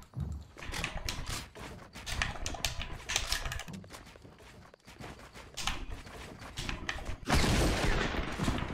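Double barrel shotgun blasts in the Fortnite battle royale game: several sharp, booming shots in quick bursts, mixed with building and movement clatter, fairly faint overall.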